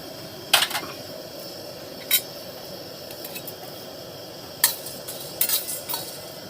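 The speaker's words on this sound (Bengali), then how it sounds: "একটু হালকা করে ভেজে নিচ্ছি মশলাটা বানাবার জন্য" Whole cloves, cardamom, cumin, coriander seeds and black peppercorns being lightly dry-roasted in a pan for a spice mix, heard as a few sparse metallic clinks and scrapes of a utensil against the pan over quiet background.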